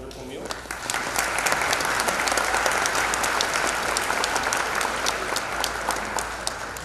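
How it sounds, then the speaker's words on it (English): Steady, dense applause from a banquet crowd at a chamber of commerce annual meeting and awards dinner, honoring a catering service, sustained and fairly loud throughout without a break. "giving a round of applause to Grant's Catering Service for the wonderful meal"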